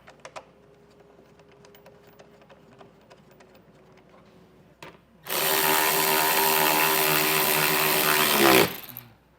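An impact or power driver spins in 10mm bolts securing the fender liner on a 2020 Jeep, a loud close whirring burst of about three seconds after quieter handling clicks and taps.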